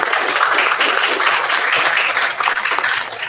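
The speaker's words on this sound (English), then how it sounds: "Let's give a big round of applause to Mani." Audience applause at a conference as a speaker is welcomed on stage: steady, dense clapping from many hands, loud and sustained throughout without any talk.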